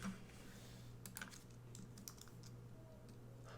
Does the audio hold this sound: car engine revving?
no